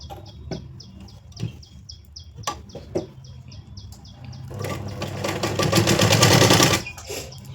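A sewing machine stitching a blouse lining starts with a few scattered clicks and short needle bursts, then breaks into a loud, steady, rapid whir for about two seconds before stopping.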